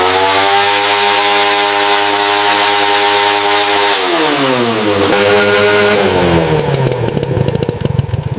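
An old moped engine screams at full throttle inside a school workshop, a loud sustained rev that wavers and sags in pitch, then breaks into rough clattering sputters near the end.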